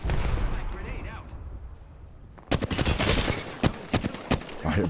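Bursts of rapid gunfire from a shooter video game, quiet at first then loud, dense volleys in the second half, with a player's voice talking over the action.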